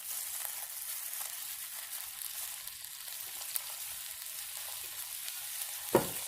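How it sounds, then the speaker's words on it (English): Chicken pieces frying skin-side down with onions in a pan make a quiet, steady, even sizzle throughout, with one brief sharper clink near the end. "I'm gonna put it kind of skin down. And I'm gonna let that cook. I'm gonna add my onions."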